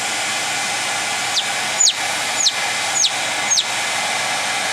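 A hair dryer on a low setting blows a steady, close airy whoosh while drying a chick's pasty bottom, with several faint high chirps from the bird cutting through.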